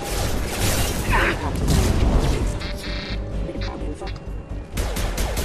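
Muffled bursts of gunfire and crashing impacts against security mechs in the Mass Effect 2 video game, loud and continuous, with a droning mechanical hum beneath and a sharper burst near the end.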